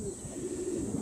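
Pigeons cooing softly around a loft roof, a steady low murmur of overlapping coos lasting throughout at moderate distance over faint background hiss.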